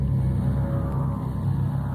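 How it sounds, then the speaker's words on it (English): Steady low roar of distant highway traffic on Highway 62 in the California low desert, a constant rumble with no distinct vehicles standing out. "The strange roar you may hear in the background is traffic on Highway 62"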